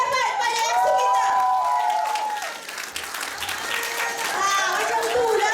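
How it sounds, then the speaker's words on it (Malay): An audience gives a round of applause to the MC at a lively Malaysian event, steady dense clapping throughout with cheering voices and chatter mixed in. "Beri satu tepukan yang sangat hebat pada MC kita."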